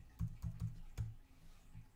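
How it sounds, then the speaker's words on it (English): A computer keyboard typed on in a quick burst of about five soft, close keystrokes, followed by one faint final tap, in a quiet room with no voices. "If you just type in CookieBot"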